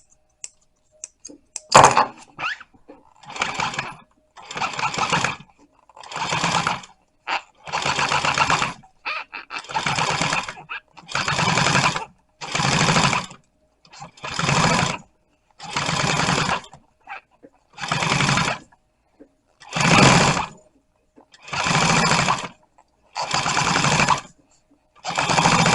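A sewing machine stitches marine upholstery for a boat seat. About a dozen evenly spaced runs of close, rapid stitching start and stop in a steady rhythm, each lasting a second or so.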